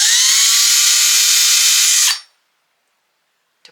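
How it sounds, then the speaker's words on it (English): Power drill pre-drilling holes in scrap wood, a loud steady high-pitched whine for about two seconds that winds down abruptly into silence, followed by a faint click. "I'm just going to pre-drill a couple holes here because I don't want my wood to split."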